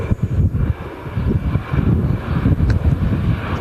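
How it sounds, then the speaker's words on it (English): EasyJet Airbus A319 jet departing Manchester Airport, a loud low rumbling engine roar that pulses unevenly, mixed with wind buffeting the microphone. "the EasyJet A319 just departed then"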